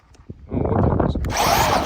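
A Traxxas Maxx Slash 6s RC truck launches into a wheelie: after a faint tick, its electric motor and tires burst into a loud, close, rising whir that holds for over a second.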